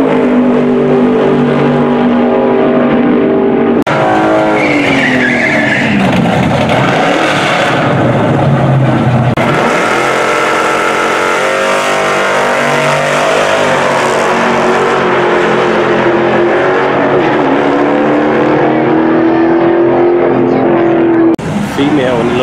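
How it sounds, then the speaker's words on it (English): A V6 nitrous truck races at Irwindale track, its engine roaring loudly and steadily with shifting revs for over twenty seconds, close to the microphone. "V6 nitrous truck."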